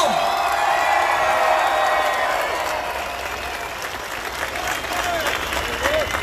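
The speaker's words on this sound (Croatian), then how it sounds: "Pozdravimo ih još jednom jednim velikim aplauzom i vriskom!" A large crowd on the Riva gives loud, sustained applause mixed with cheers and whoops at a 2019 celebration honouring Croatian war veterans parading with their war flags, the clapping steady and dense throughout.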